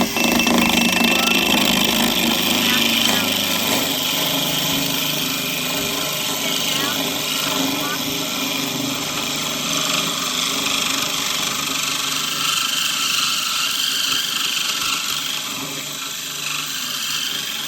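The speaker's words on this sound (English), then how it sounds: "this is the hole that I just drilled" A drill bores a hole through aquarium glass under running cooling water, a steady, loud grinding whine that continues for the whole stretch while a person talks over it.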